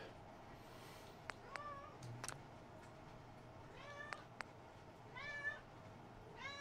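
Mariner Kitty, a pet cat in the room, meows repeatedly and persistently, several faint separate calls spread out with pauses between them over quiet background hum.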